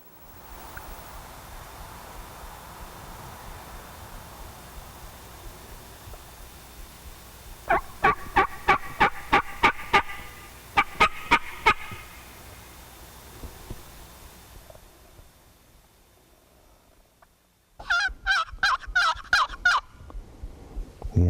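Wild turkeys gobble loudly outdoors in two bursts of rapid rattling calls, the second burst close and strong, against a quiet background of faint rustling.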